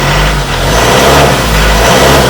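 A close, loud 2.2-litre turbo diesel engine of a 2020 Mazda BT-50 Pro pickup revs up, a rough low rumble swelling and holding steady for a couple of seconds.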